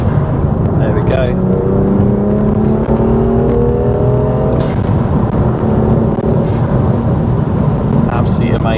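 Loud, steady engine drone from a manual six-speed BMW M2 Competition remapped to over 520 bhp with anti-lag, heard from inside while the driver lightly feathers the throttle, rising tones suggesting revs climbing, with a voice speaking over it.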